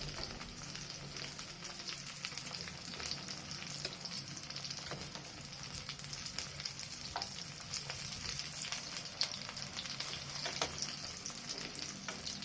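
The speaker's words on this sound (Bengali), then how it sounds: "এগুলো খুব খড়ো খড়ো করে ভাজবো।" Taro leaf pakoras fry crisply in hot oil, a steady, dense sizzle and crackle running unbroken throughout, with occasional soft stirring and turning noises close by.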